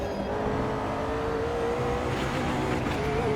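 Race car engine in the sim racing game Automobilista 2, held at a steady, loud drone with a rising tonal whine as the car power-slides through a corner exit, continuous throughout.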